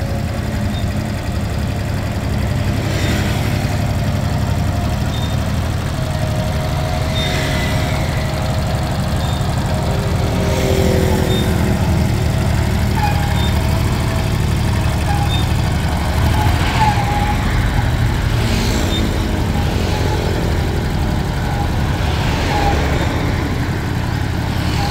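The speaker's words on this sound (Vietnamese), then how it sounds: "Máy nổ rất êm." An old Japanese Kubota tractor engine idles steadily and evenly throughout, a continuous low rumble close by with no voices over it.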